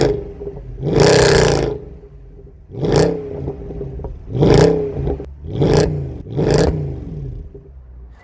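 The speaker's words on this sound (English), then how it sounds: "I'll put a little clip in here of this car revving up" Mercedes C63 AMG W204 coupe with a 6.2 V8 and Milltek secondary decats blips its throttle five times, loud close roars rising and falling over a burbling idle.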